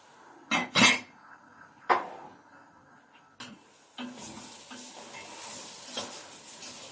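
Ingredients roasting in a pan for an eggplant dish, with a few sharp clinks and scrapes of a utensil stirring against the pan, followed by a rising, steady sizzle.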